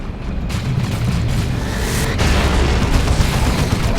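Explosives go off in Dawn of War 2: Retribution during a 2v2 battle, with heavy booming blasts over a dense, continuous rumble of battle noise and a fresh surge about halfway through.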